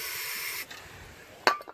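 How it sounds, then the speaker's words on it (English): Carb cleaner sprays in a short, close, loud hiss into the engine of a Toro CCR 3650 R-TEK single-stage snow blower. It cuts off abruptly and is followed by a sharp clatter. "you got to spray a little bit of carb cleaner in there"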